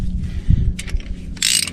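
A ratchet clicks in short bursts while tightening the front axle nut on a 1993 Chevy K3500 dually during a brake job, with close metallic clicks and clanks and no talk.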